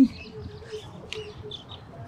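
Bird calling near a fishing spot, faint soft chirps and a brief brighter tweet scattered over low outdoor background noise, close but quiet.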